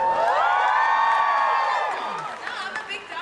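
Fans in an audience at Super Soap Weekend 2008 break into loud applause and bright, whooping cheers that swell at once, then gradually thin out and grow quieter.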